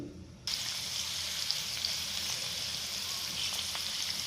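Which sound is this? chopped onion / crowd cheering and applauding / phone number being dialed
chopped onion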